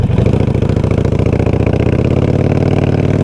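A Harley-Davidson Sportster with loud aftermarket exhaust pipes idles at a stop with a deep, loping, steady thump, close and loud throughout without any talk.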